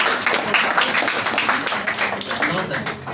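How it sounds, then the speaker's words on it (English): Audience clapping at an English institute award ceremony in New Delhi, a moderate crowd applauding steadily with individual claps audible, while voices talk over it. "Clap for Sabya"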